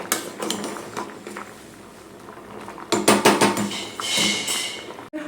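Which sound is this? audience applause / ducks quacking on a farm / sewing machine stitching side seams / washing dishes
washing dishes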